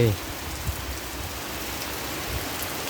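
Morning rain falls steadily in a continuous hiss of drops hitting surfaces, close and even throughout with no other clear sounds.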